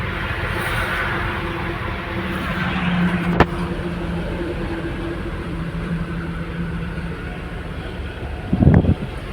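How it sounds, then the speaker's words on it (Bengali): Strong wind near the Hooghly bridge while construction work continues, a steady broadband rush buffeting the microphone throughout, with a brief sharp knock early on and a short louder thump near the end. "হুগলি সেতুর কাজ এখনো চলছে আর হেভি হাওয়া দিচ্ছে"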